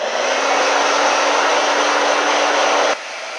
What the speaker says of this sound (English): Okay, that was her dryer